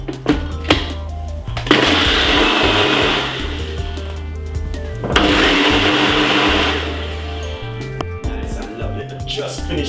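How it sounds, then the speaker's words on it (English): A kitchen blender whirs loudly in two long bursts while making a milk, blueberry and mixed-berry smoothie, with short pauses and someone talking in between. "blend this about 3 to 4 minutes if you have a good blender"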